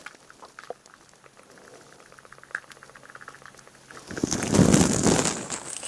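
Chalk is sprinkled from a bag into a box lined with paper, first light scattered crinkles and taps, then a louder rushing, pattering pour close by lasting a couple of seconds.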